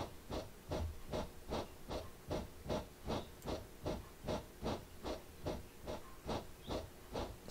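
A steam locomotive on the Isle of Wight Steam Railway in Train Simulator, chuffing and hissing in a steady, even rhythm of sharp exhaust beats, fairly quiet and continuous with no talk.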